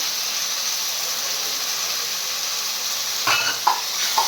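Spices with turmeric and salt fry in a pan with a steady, close hiss and sizzle, then a few stirring scrapes near the end.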